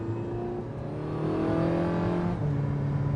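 A hybrid hypercar accelerates hard, its engine note rising in a smooth, loud, close-up surge with layered harmonic whine building steadily over a few seconds.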